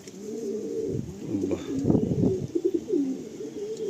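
A pigeon of a long breed, blue-green in colour, coos close by in soft low repeated calls, with faint background rustle and no talk over it.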